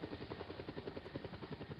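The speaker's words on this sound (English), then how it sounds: "Let's go for a helicopter ride." Helicopter in a video game flying steadily, its rotor chop beating in a fast, even rhythm at moderate level, with no talk over it.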